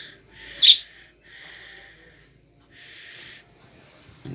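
Pet birds kept in pairs in a cage give one sharp, loud call followed by softer, raspy, breathy calls at intervals, with near-silence between them.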